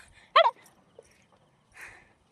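A dog gives one short, sharp bark nearby on a path beside a drain, followed by faint rustling and a brief breathy noise, with near silence otherwise.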